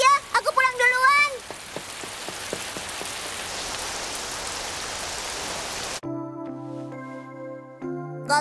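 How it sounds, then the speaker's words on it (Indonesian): Rain pours down in a Shimajiro children's cartoon, a dense steady hiss of drops on surfaces after a few brief cartoon sound effects at the start, then cut off abruptly by a musical tone. "Hujan."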